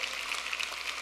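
A church congregation applauds, a dense, steady patter of many hands clapping together, moderately distant and filling the room without pause.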